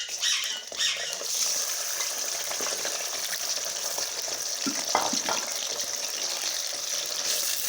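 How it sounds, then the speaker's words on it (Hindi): Chicken pieces frying in hot cooking oil in a karahi, a dense, continuous sizzle and crackle with occasional stirring scrapes, close and loud with no talk. "ऑयल गर्म होने से बाद हमने फिर इसमें चिकन ऐड करना है।"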